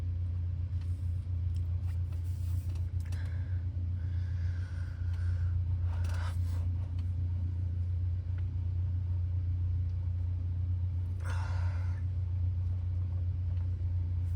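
A Cessna 152 light airplane taxiing, its engine holding a steady low droning rumble for the whole stretch, close and continuous, with a few faint scraping and rattling noises over it and no talk.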